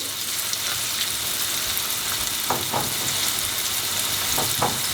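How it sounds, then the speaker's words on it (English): Continuous bright sizzling of chicken frying in hot oil, with a few soft pops and crackles, close and steady with no talking. "let's start frying this"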